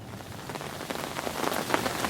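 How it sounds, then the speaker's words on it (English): Steady rain pattering on a surface and a tarp set up to catch rainwater, a dense even hiss of drops with a few louder splats, close and continuous with no voices. "So it's raining again, folks,"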